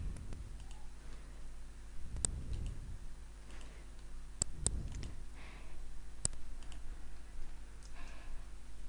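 Sharp, sparse clicks of a computer mouse at a PowerPoint workstation, a handful of single taps spread across a quiet room with steady low hum, no talking.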